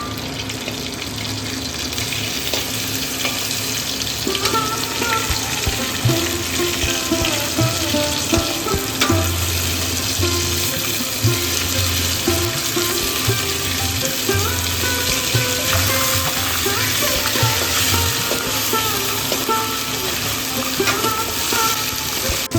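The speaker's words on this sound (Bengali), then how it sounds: "মাছগুলো দুদিক থেকে সাতলানো হয়ে গেছে।" Rohu fish pieces frying in a little oil give a steady, fairly loud sizzle and crackle that runs without a break from start to finish, with occasional low clinks from the pan.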